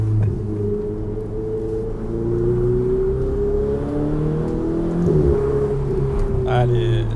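A Ferrari 488 fitted with a Novitec exhaust holds a loud, close engine drone for the whole stretch, with the pitch climbing in a rev around the five-second mark.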